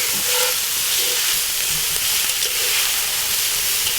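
Whole garlic cloves and pork frying in a stew pot over an open fire give a steady, loud sizzling hiss that runs unbroken and close, with no talk.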